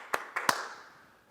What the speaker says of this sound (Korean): 우리 다시 한번 하나님께 영광의 박수 올리겠습니다